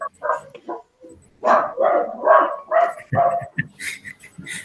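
A dog barks in the background behind an online lecture, a run of several loud, close yaps in quick succession, with faint talk at the edges.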